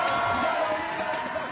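Crowd cheering at a BMX freestyle flatland world cup final in Montpellier, a dense continuous roar of voices and whoops at a distance, with a commentator's voice mixed in.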